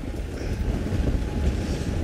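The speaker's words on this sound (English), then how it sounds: "it's very windy at the moment here where I am" Strong wind buffets an outdoor microphone on a safari drive, a loud, constant low rumble with gusty swells that fill the whole moment, with no voices.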